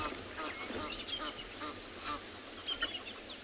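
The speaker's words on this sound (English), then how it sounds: "We heard another sound of other Egyptian geese" Several Egyptian geese honk and call repeatedly in the distance on a sunrise safari, harsh nasal cries rising over a steady outdoor background.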